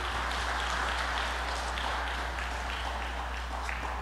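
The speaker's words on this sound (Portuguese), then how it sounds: "Uma salva de palmas para os nossos atores." An audience at a church Reformation-themed performance claps for the actors. The applause is dense and continuous, fairly close and steady throughout, with a low mains hum underneath.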